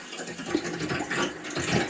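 Cold water gushes full blast from a freshly opened isolation valve into a bucket, a continuous rushing, splashing roar at close range with no speech over it.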